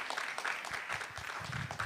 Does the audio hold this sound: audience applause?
yes